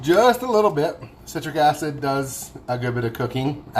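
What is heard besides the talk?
No everyday noise stands out behind the speech.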